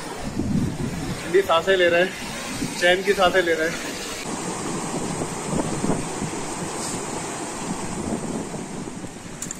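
A mountain river on the Kedar Tal trek in icy conditions pours in a steady, full rush that fills the clip, while a person speaks over it during the first few seconds.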